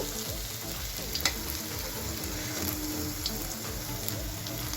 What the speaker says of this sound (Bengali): আর এখানে পনিরটাকেও আমি খুব ভালো করে ভেজে নেব।